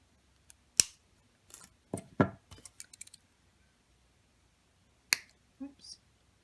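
Sharp metallic snips from wire cutters trimming jewelry wire for beaded crystal earrings, a few brief clicks spread across a quiet tabletop with small handling sounds between them.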